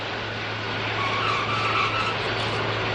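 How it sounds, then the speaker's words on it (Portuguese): Tires of the giant Antonov An-225 cargo jet screech against the runway on touchdown, a loud continuous rubbery squeal with rumbling noise underneath, sustained for the whole stretch. "São 32 que queimam borracha cada vez que esse colosso de 600 toneladas toca o solo."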